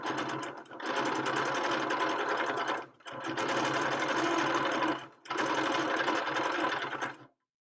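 A BERNINA sewing machine stitches in three long, loud bursts of rapid, even needle chatter, separated by brief pauses, close and alone.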